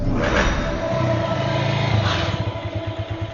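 Car engines idle and rumble in a traffic jam in a comedy film scene. A steady, close engine drone holds throughout with slight revving, and no voices are heard.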